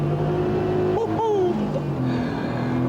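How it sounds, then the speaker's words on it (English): An Ascari sports car built in Wiltshire accelerates hard, its close, loud engine drone swelling upward in pitch mid-run before settling into a lower steady note, with no talking. "the Ascari goes from 0 to 60 in just under 5 seconds"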